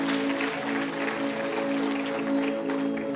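Theatre audience applauding at a stage performance in Lucknow, a steady, dense wash of many hands clapping together for a few seconds, fairly close and continuous with no voices over it.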